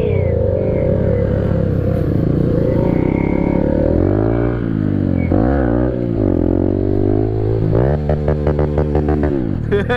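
A motorcycle's exhaust rumbles loud and close, its engine revving up and down in uneven bursts with a rattling, popping edge toward the end.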